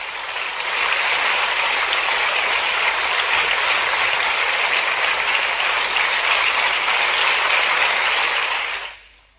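An audience claps loudly and steadily as the Chief Minister launches a youth health and wellness program. The dense applause runs for about eight seconds, then fades out quickly.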